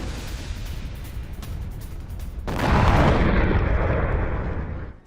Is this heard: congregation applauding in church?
no